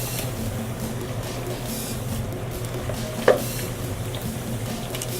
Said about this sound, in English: the plantains will start to get nice and crispy brown